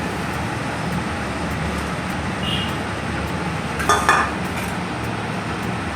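Fish tipped into a pan of coconut-milk curry gravy for a prawn malai curry, with a steady low simmer throughout and a short, sharp splash of liquid midway.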